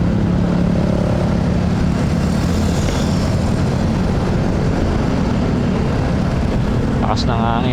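Strong wind roars steadily into the microphone while riding a Honda Click V3 scooter in traffic on the Montalban to Makati route, a loud, unbroken rushing buffet that lasts the whole time, with a brief voice near the end.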